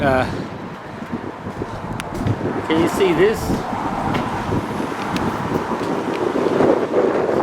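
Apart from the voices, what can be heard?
wind blowing on microphone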